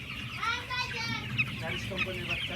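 Thirteen-day-old broiler chicks on a poultry farm, a dense chorus of high peeping and clucking close by, with a voice talking faintly underneath.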